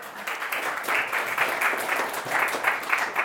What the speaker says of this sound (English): so you can give him a round of applause.